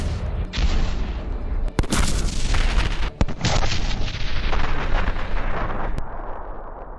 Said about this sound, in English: A few shots from a high-precision gun can quickly eliminate the target and escape.